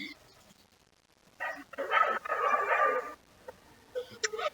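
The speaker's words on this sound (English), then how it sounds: "Literally, we've got dogs in heat, outside out." Dogs outside yelp and bark in a short flurry after a quiet start, a mid-distance burst of yapping followed by a few scattered barks and some faint background noise.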